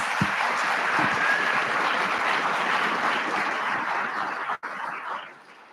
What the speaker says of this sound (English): Clap for our parents.